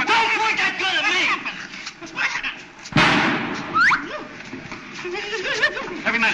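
A single sharp gunshot cracks out mid-scene in a 1936 comedy film, cutting abruptly between lively voices that talk before and after it.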